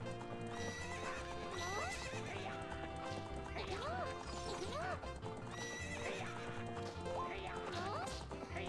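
Horse hooves clop in a quick galloping rhythm around a corral while repeated whinnies rise and fall over a steady musical background, in the video game Zelda: Ocarina of Time.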